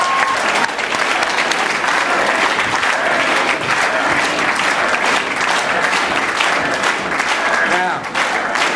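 Sustained, loud applause from a packed audience at the Old Labor Hall in Barre, Vermont, greeting a senator; dense clapping fills the whole stretch with a faint voice surfacing near the end.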